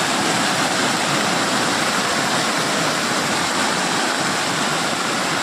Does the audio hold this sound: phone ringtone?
no